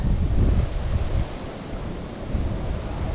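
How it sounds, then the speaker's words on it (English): Water rushes steadily through an open canal lock on the Wigan flight, let down to fill the pound: a broad, continuous roar that surges and eases slightly, with no voices. "Just going to have to let some water down to fill this pound."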